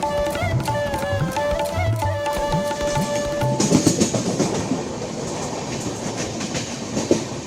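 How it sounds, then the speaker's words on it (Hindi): The Kerala Express runs along the tracks through the Western Ghats, its wheels beating a steady, close clickety-clack with a tonal hum early on. The rumbling continues throughout, with no talking. "पटरी पर सरपट दौड़ती केरल एक्सप्रेस"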